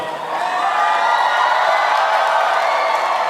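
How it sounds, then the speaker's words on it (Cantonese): A crowd at a Hong Kong talent-show press conference cheers and applauds the top 99 contestants, giving off a dense, continuous wash of clapping and shouting that holds at a steady loud level. "我希望大家俾再熱烈嘅掌聲同埋歡呼聲，送俾我哋台後邊99強嘅參加者"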